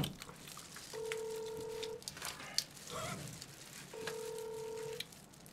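A phone call rings out unanswered: two evenly spaced electronic ringback tones, each about a second long, steady and moderately loud over faint room noise and scattered background sounds.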